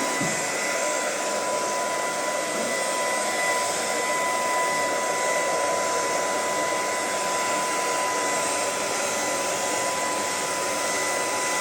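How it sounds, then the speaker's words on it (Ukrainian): A hair dryer drying a horse's mane blows loud and close in a steady, unbroken whoosh with a faint high whine, running continuously without any voices. "Ще феном коня не сушили, так?"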